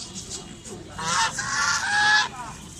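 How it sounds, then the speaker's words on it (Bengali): Loud honking calls from geese or similar fowl ring out close by at a pigeon and bird market in Sreepur, Gazipur, with faint chatter and bird noise behind. "চলে আসলাম কবুতর পাখির হাটে গাজীপুর শ্রীপুর পৌরসভা পুরান বাজার"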